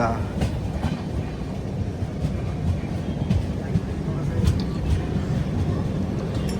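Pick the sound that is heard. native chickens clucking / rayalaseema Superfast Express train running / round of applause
rayalaseema Superfast Express train running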